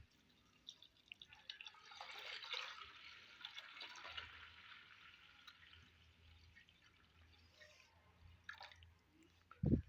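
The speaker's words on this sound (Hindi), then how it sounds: "ये आधा जग हमने शामिल किया है पानी" Water poured from a jug into a pot of mixed lentils with onion, turmeric and salt, a steady soft splashing trickle that swells midway, then tapers into faint drips before a sharp knock at the end.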